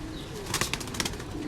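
A Lal Pari pigeon, a stout female, flaps its wings in bursts while being held and handled, with soft fluttering beats close by and no talking.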